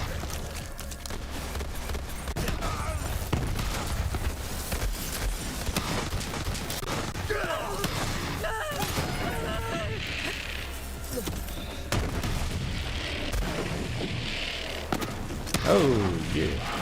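The Hellwalker shotgun in Borderlands 3 fires over and over at a busy pace, with dense clattering blasts and impacts running continuously for about seventeen seconds while a voice talks over the action.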